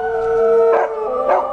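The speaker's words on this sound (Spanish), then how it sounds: "escucharon cómo los dos perros que tenían sus vecinos comenzaban a aullar" Two neighbours' dogs howl together in long, steady, overlapping tones, with a couple of sharper yelping swells breaking through, close and fairly loud.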